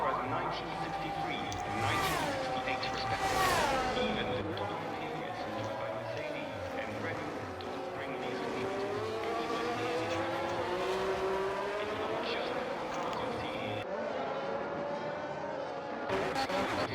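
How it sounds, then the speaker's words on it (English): Race car engines in an XLR sprint race whine and scream at high revs, pitch sweeping up and down as cars accelerate and pass, with brief tire squeal, under continuous commentary. "pushing the car to all of its limits."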